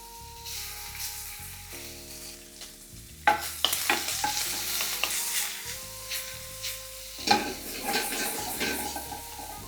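Pork belly frying in a little oil in a hot pan over medium-high heat, a bright sizzle that rises as the meat goes in, with stirring clatter and scraping against the pan.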